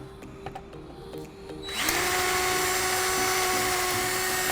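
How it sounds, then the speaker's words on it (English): A power drill bores through a composite front bumper of a C7 Corvette, starting after a quiet lead-in with a steady, loud high-pitched whine that holds to the end. "you can see it even stays on the drill bit"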